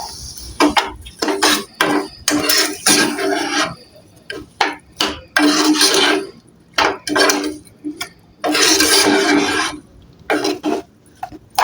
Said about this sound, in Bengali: চিনির মধ্যে পেঁপেগুলো ভালো করে নাড়াচাড়া করে মিশিয়ে নেব।